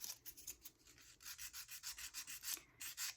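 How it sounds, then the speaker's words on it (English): A nail file with a rougher side rasps gel polish off a fingernail in quick, rhythmic back-and-forth strokes, soft and close with no voices. "My file has one side that is a little bit rougher than the other"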